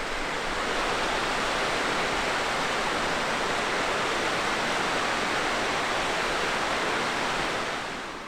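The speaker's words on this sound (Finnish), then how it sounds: "Todella hieno pieni vesiputous kyllä" A small waterfall rushes steadily in the wilderness, a dense, even hiss of falling water that stays close and loud from start to finish with no other sounds.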